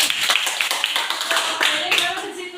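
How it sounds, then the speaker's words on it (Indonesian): A classroom of students clapping their hands together in a dense burst of applause that lasts throughout, loud and close, with some voices mixed in. "Oke, tepuk tangan dong."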